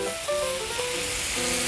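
Soy sauce and maple syrup sizzle loudly in a pan with anchovies, a dense continuous hiss close up, with faint tonal scraping from stirring underneath.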